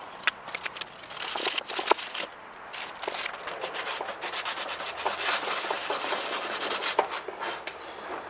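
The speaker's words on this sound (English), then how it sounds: "I really probably shouldn't be sanding this" Dried toothpaste residue is sanded off a 3D printed flashlight with brisk, repeated scratchy rubbing strokes, close and fairly quiet, with no talk over it.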